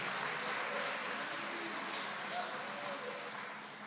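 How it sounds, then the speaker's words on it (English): Steady applause from an audience clapping for a man named Dennis, a continuous even patter of many hands at moderate volume, slowly fading toward the end. "We're clapping for Dennis"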